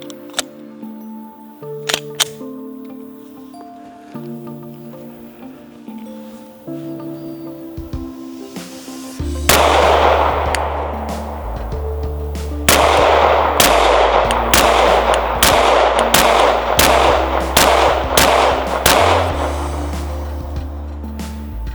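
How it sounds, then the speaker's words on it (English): Ermox X-Fire, a Turkish metal-framed Glock-style pistol, fired at a range: about ten loud, close, sharp shots in a quick irregular string, following a quieter stretch of low background tones. "I'll be shooting at the bottom target, 10 shots, see how we are."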